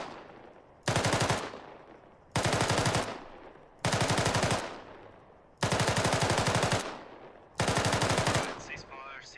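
Five loud bursts of automatic gunfire on an Arma 3 firing range, each lasting about a second, separated by fading echoes and quiet gaps, with a voice at the end.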